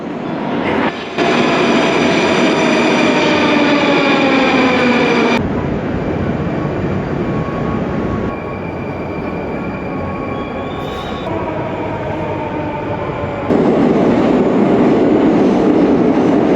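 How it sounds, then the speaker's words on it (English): A Moscow metro subway train rumbles loudly and steadily nearby, with shifting tones as it runs, a high squeal and brief pauses in between, then the roar swells again toward the end. "nothing comes even close to the Moscow metro."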